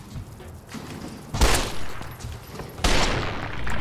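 Gunfire in the video game Fallout: New Vegas comes as two loud bursts of shots, each followed by a lingering noisy tail, with quieter rumble in between.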